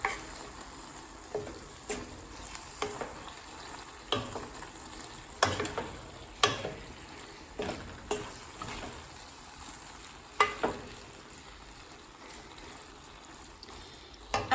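Scrambled tofu being stirred in a pan, with a spoon scraping and clacking in irregular strokes over a soft, steady sizzle, close and alone without voices.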